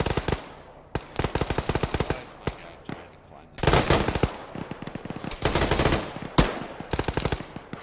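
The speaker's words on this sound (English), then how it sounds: "Bravo shooting past you." Rifle and machine-gun fire from a squad in infantry combat training crackles in rapid bursts and single shots, loud and close, with brief pauses between volleys and short shouted voices.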